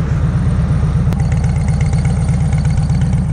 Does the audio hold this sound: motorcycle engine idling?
yes